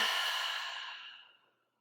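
A long, audible exhale during a yoga practice after a full-body stretch, a close, breathy rush of air that starts strong and fades steadily over almost two seconds, heard alone without talk.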